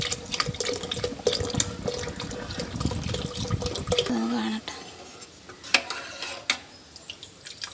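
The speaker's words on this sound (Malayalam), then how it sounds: "ഇനി ഇതിലേക്ക് 1 ലിറ്റർ പാല് ചേർത്ത് കൊടുക്കാം." Liquid, about a litre of milk, pours steadily into a pan for palada, a splashing gush for four seconds, then stops and leaves a few drips and light clinks of the pan.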